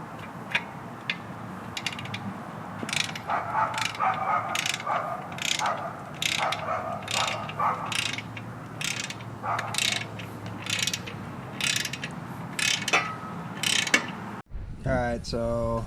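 A ratchet wrench clicks in quick repeated bursts while torquing transmission adapter bolts to 30 foot-pounds in a crisscross pattern on an LS engine fitted with a ZF transmission, fairly close and steady. A short voice is heard at the very end.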